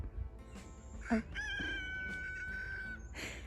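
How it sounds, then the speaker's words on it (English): A rooster gives a clear, fairly close crow with a long sustained final note, amid a backyard flock where several roosters call through the day; low background noise and faint other bird sounds surround it. "The roosters are cracking me up."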